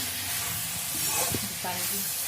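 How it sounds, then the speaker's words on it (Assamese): Tomatoes fry in a hot pan, a steady close sizzle and hiss with a few brief stirring scrapes partway through. "বিলাহীখিনি অলপ ভাজি পেলাই বিলাহীখিনি গলিব লাগিব।"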